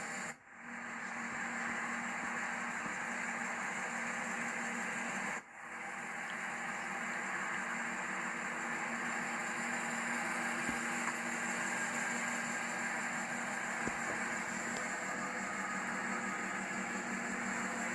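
1998 Jeep Grand Cherokee 5.9-liter V8 with a free-flowing exhaust idling steadily, a low even hum with two brief dips near the start, no talk.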